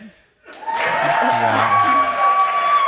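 Live audience at a BEMA show in Boise breaking into applause and cheering after a short pause, a burst of clapping that swells quickly and holds steady.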